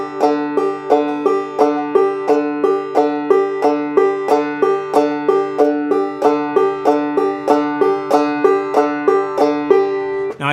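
Clawhammer banjo played with a steady double thumbing pattern on the fourth and fifth strings, giving evenly spaced, bright plucked notes in a bouncing rhythm, close and alone without any talk.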